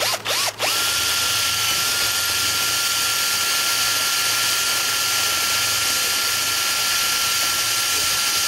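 Power drill boring a hole for a bracket bolt while installing a Stand N Fish leaning post accessory on a boat, a loud, steady whine running almost unbroken after a couple of short trigger blips at the start.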